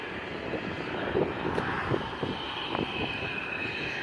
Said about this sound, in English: Everyone's just chilling out, watching the planes.